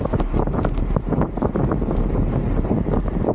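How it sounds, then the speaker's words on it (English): Wind buffets the microphone during a Cat 5 bicycle road race at Dominguez Hills, California, making a steady, loud, low roar that covers the whole stretch with no talking. "The wind was kind of going left to right over here."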